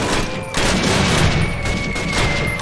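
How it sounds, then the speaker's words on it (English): Heavy gunfire rattles nonstop in a Call of Duty battle, loud and dense with booming shots layered over a constant combat roar. "People are shooting like crazy."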